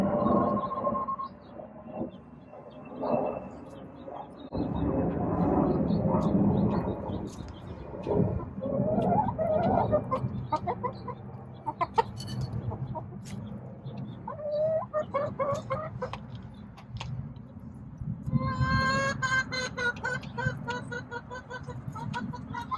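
Backyard hens cluck and squawk at close range, with one bird's distinctive repeated call rising toward the end, mixed with a person talking and background noise.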